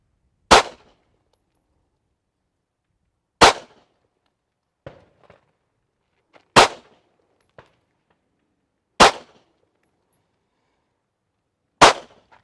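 Five sharp pistol shots fired one at a time at a live-fire shooting range, each loud crack spaced a few seconds apart. Fainter clicks and small metallic knocks fall between them, and no one speaks.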